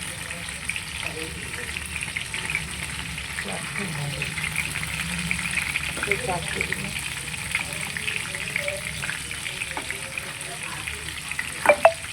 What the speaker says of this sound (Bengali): ওটাকে এবার তেলের মধ্যে সাদা তেল আর বাটার দিতে হবে, দিয়ে এটাকে ফ্রাই করতে হবে কড়াইতে